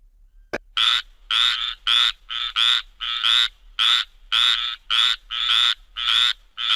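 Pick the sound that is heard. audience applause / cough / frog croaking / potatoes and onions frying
frog croaking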